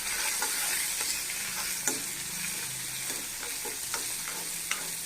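Coconut, onion and a little tamarind sautéing in a pan, a steady close sizzle broken by occasional sharp scrapes and taps of a spoon stirring, with no voices.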